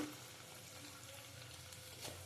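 Prawns and taro sautéing in a pan for a Bengali prawn-and-taro curry, a faint, steady low sizzle and stirring scrape running throughout with no voices.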